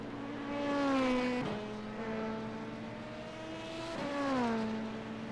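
GT3 race car engines in an IMSA racing video game, two rising-then-falling engine drones passing by with gear-shift breaks, moderately loud against a low steady hum.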